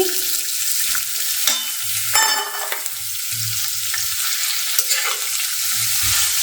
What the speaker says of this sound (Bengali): ফুলকপি আলুর একটু ভাজা ভাজা হয়ে গেছে এবার গাজর বিনসটাকে দিয়ে দিই